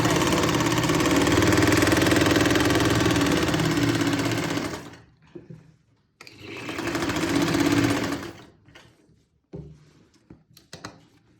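A sewing machine stitching around the neckline of a kameez shirt runs loud and close in two bursts, a long run and then a shorter one, each with a steady whirring hum, separated by quiet pauses with light handling noises.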